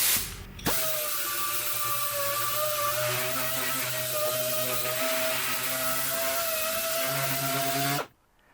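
An orbital sander with 180-grit paper runs over welded metal stool legs, a steady whirring hum with a faint whine that starts abruptly, holds level for about seven seconds, then cuts off sharply.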